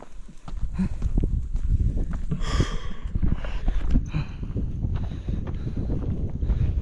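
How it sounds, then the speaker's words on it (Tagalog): Strong wind on a mountainside roars and buffets the microphone in a steady, loud rush throughout, with a few brief thumps and rustles mixed in. "malaming hangin"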